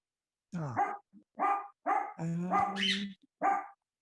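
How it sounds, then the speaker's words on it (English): A dog barks about six times in short, separate bursts, close by and fairly loud, with brief pauses between barks. "when the dog's barking"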